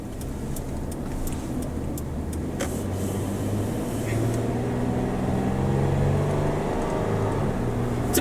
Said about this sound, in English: It's a pretty refined sounding engine overall. It's got a nice rumble to it.